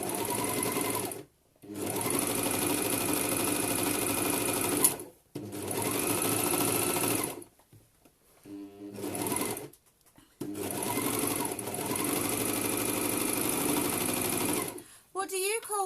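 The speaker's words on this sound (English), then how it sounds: "Right, so all we're going to do now is just overlock the neckline for this." An overlocker serges around the neckline of a bralette with a half-inch seam allowance, running in four long, steady whirring bursts separated by brief pauses, close and loud.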